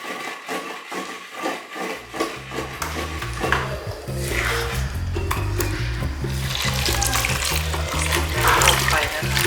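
Shrimp dropped into hot oil at a Mozambican food stall, a loud close sizzle that starts after a couple of seconds of pounding or stirring knocks and keeps hissing steadily, with music underneath.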